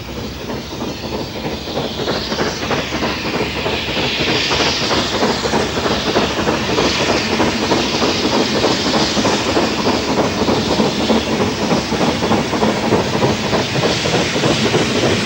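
Somerset and Dorset Class 7F 2-8-0 steam locomotive 53809, with a larger diameter boiler, working hard with a rapid, steady exhaust beat and rhythmic rail clatter, loud and close, building slightly at the start.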